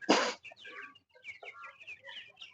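A burst of flapping or scuffling, then farm broiler chickens, about 22 days old, cluck and chatter softly nearby in short, scattered calls.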